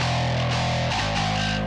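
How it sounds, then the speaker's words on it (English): A sustained bass tone with heavy distortion, super grindy, for an alternative pop rock track: a thick, buzzing, steady drone that shifts pitch slightly partway through, loud and continuous with no voices. "We did the same thing, but threw on a bunch of distortion and made it super grindy."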